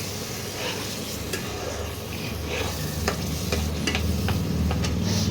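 Ground spices fry in hot oil for katla fish kalia, with a steady loud sizzle and repeated scraping stirs of a spoon against the pan, heard up close.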